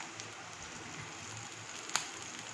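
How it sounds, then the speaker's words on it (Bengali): Chopped onion and green chilli fry in oil in a pan, a faint, steady sizzle with soft crackles and one sharper pop near the end. "পেঁয়াজটা একটু লাল লাল করে ভেজে নেব।"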